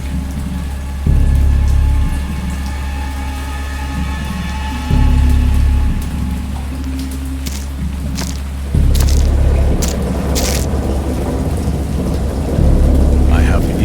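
Steady heavy rain pours throughout in the video game Dagon, with several loud rumbling thunder bursts rolling in, close and powerful, about every few seconds.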